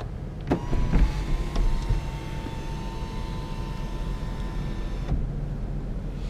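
A Lexus IS250 electric sunroof motor runs in a steady whirring drone for several seconds inside the car, with a few faint clicks near the start before stopping abruptly.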